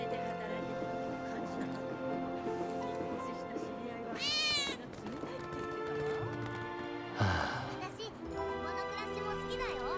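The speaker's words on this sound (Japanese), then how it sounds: "猫の鳴き声。" A cat meows a few times in Final Fantasy VII Remake over steady game music, with a rising chirpy call near the middle and a sharper burst later.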